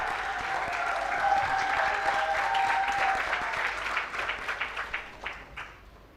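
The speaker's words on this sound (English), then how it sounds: "So another round of applause for Esther." A conference audience claps steadily for Esther Kimani, grand prize winner at the GoGettaz Agripreneur Prize finals at AGRF 2023. Dense applause fills the hall, then thins into scattered claps near the end.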